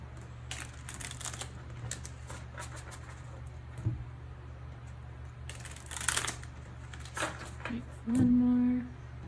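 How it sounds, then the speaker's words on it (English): Soft tarot-style card-shuffling flicks and riffles of a large, hard-to-shuffle deck come in short bursts over a quiet hum, followed near the end by a brief low tone. "it's super hard to shuffle, so we'll keep that half."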